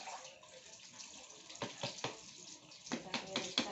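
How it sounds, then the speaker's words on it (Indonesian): A dropped brown lid is rinsed under running water at a street food stall, giving a steady splashing stream with several sharper splashes and clatters toward the end. "cuci tutup yang tadi jatuh,"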